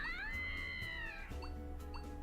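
A cat-like Digimon in the Digimon World Next Order video game lets out a long, rising-and-falling meow, followed by a couple of shorter chirps, close and clear over a low background.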